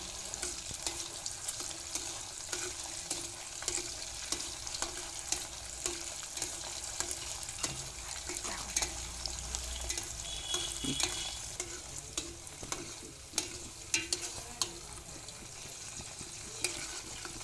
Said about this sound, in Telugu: ఇలా కష్టంగా కలుపుతూనే ఉండండి ఈ యొక్క కలబంద అనేది గోధుమ రంగులోకి వచ్చేంత వరకు కలుపుతూనే ఉండండి